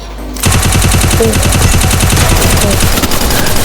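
Rapid automatic gunfire from the shooter game Free Fire, a loud, dense burst of shots in quick rhythm that starts abruptly and continues without a break to the end.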